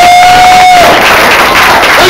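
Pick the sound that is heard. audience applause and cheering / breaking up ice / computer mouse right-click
audience applause and cheering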